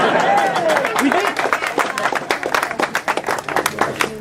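A crowd applauds at a political campaign speech, with dense clapping that swells and then thins into scattered claps. A voice is briefly heard at the start.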